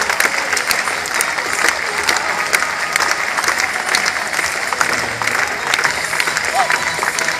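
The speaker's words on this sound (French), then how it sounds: "On peut l'applaudir messieurs dames" A crowd in a bullring at a recortadores event in Beaucaire applauds steadily and loudly throughout, a dense continuous clatter of clapping hands with a commentator's voice faintly underneath.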